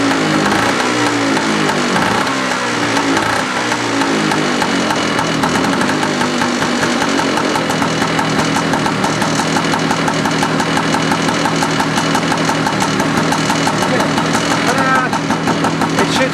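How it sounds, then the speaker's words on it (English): A 1974 Vespa Rally scooter engine fires up and keeps running, a loud, close, continuous two-stroke putter with a rough, uneven rhythm that steadies into idle. "It should settle into a better idle in a second here"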